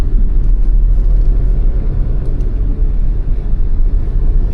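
A 15-year-old car with 1.8 lakh km on its engine, heard up close as a loud, steady, deep engine rumble under acceleration, with no voices.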